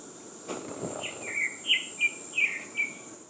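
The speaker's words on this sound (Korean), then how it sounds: "어디서 새가 이렇게 예쁘게 우는 거야?" A bird gives a series of short, bright chirps, about six in quick succession, over a steady high insect drone at a summer campsite.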